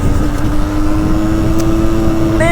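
A Yamaha MT-10 motorcycle rumbles steadily and loudly nearby, its engine drone holding a constant low hum with a slight rise in pitch near the end, with no talk over it.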